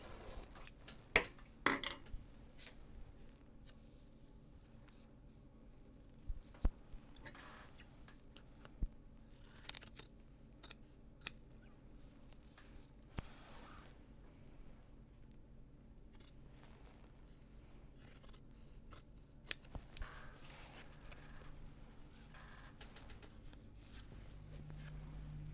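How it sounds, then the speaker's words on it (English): Fabric shears in need of oil snip through Japanese fabric in sparse, sharp metallic crunches spread across a quiet stretch, with a few clustered cuts near the start and light handling noises between them. "That sounded like I need to put some oil in my shears."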